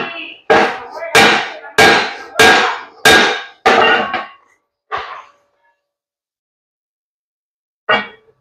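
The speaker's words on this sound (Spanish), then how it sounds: "El martillo del borde nos asegura que no va a quedar ningún inicio de fisura" Hammer striking the freshly welded edge of a Ford Cargo 1721 truck leaf spring: six loud ringing metallic blows in steady rhythm, then two more isolated strikes after a pause, close and without talk.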